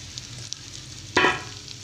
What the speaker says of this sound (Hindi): मैंने एक कढ़ाई में किया है, घी डाला है, और इसमें डालूंगी ये तमाम भिंडी फ्राई करने के लिए।